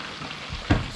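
A whole tilapia is flipped with a slotted spoon in a pan during Kenyan-style dry frying, giving a single brief scrape-and-thump followed by a soft, steady sizzle.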